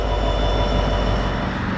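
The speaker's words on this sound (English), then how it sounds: "here's that intermodal that started going by as soon as we left." An intermodal freight train rolling past at Pennsylvania's Horseshoe Curve in winter, a steady, dense rumble and rail roar that holds level for the whole stretch with no voices.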